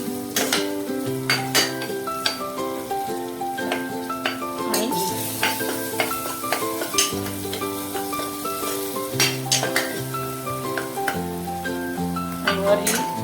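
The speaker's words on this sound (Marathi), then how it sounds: "आता त्याला चांगलं हलवून घेऊया." A spoon scrapes and clinks steadily against a pan as khichdi with chili is stirred, with a soft sizzle of frying underneath and repeated close metallic strikes throughout.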